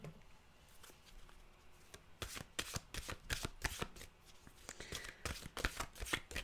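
A deck of mantra cards is shuffled by hand at close range, a quiet start giving way to a quick run of crisp riffling snaps and flutters over several seconds, with no talking.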